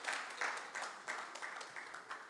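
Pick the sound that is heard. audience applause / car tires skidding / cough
audience applause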